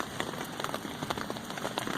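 Rain falls steadily on rocks and a tent in a remote southern area, a dense patter of close drops with scattered sharper hits, with no voices.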